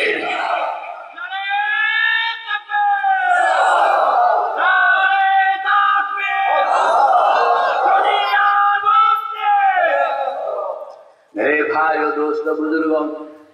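A large crowd at an Islamic religious sermon roars back in unison to a takbir call, with loud, sustained chanted shouts over about ten seconds, a brief break, then a second burst.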